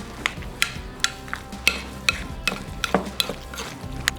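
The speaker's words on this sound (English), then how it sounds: "Now I'm gonna take a spoon and just mix it all together" A spoon mixing lime juice, garlic and fajita marinade in a bowl close up, giving repeated light metallic clinks and wet swishing strokes at an uneven rhythm.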